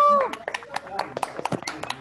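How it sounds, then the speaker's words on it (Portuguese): Scattered hand claps from a small audience at a Creative Mornings talk, a handful of sharp, uneven slaps close by, mixed with voices talking over them. "Vou abrir os microfones aí, Caio, para eles ouvirem as palmas."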